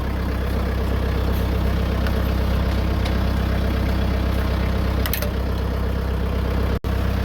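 The diesel engine of a McCormick X1.45 tractor idles with a steady low rumble, close and continuous throughout, with a few faint clicks and a brief dropout near the end.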